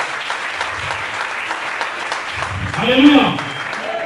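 A church congregation claps and cheers during a lively worship service. The applause is dense and continuous throughout. A voice calls out an exclamation, and a louder swell of cheering comes near the end.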